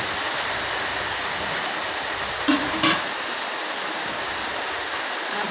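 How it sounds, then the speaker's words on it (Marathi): Heavy monsoon rain pouring down steadily in a village, a dense, even wash of sound from start to finish, with two brief faint knocks near the middle and no talking. "आज मोठी झड लागली."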